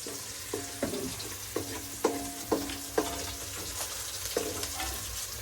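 Maggi noodles tempering in a hot pan at night: a constant oily sizzle, broken every half second or so by sharp metallic clinks and scrapes of a spoon stirring against the pan, close and fairly loud.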